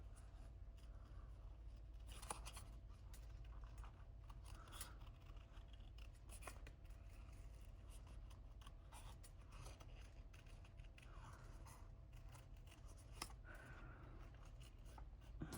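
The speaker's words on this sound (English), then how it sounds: "open and close the scissors with my right." Quiet snips of scissors cut through paper in scattered, crisp clicks over a low background hum.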